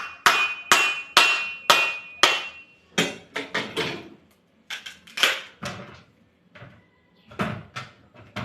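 A coconut is broken into pieces for homemade coconut oil, with a series of sharp, loud, close knocks and cracks. Some land in quick bursts and others are spaced by short pauses.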